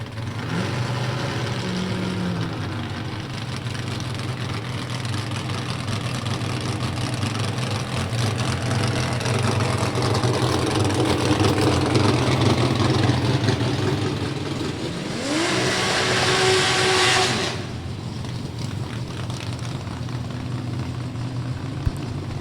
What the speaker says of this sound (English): Jenny Treadwell, another 6-cylinder power plant, this time a 6-cylinder Ford